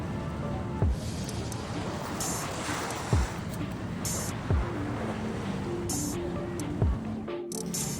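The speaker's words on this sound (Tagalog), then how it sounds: "Medyo makusog po ang hampas kang alon na nagrarapa sa breakwater." Strong waves strike a breakwater at Sabang, Calabanga, with a steady roar of surf and wind and periodic low thuds from the impacts. No voices are heard.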